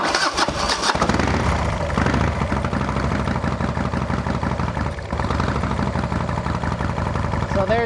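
A motor engine cranks and catches, then settles into a steady, close idle that continues throughout.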